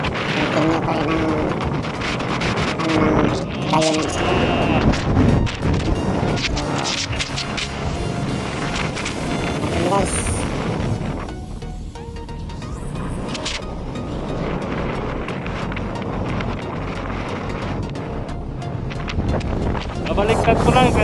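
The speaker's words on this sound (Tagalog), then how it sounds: "ngayon, malakas pa rin ang hangin" Strong wind from a winter snowstorm in Manitoba, Canada, roars as dense, continuous gusting noise through the whole stretch, easing somewhat midway, with people talking over it.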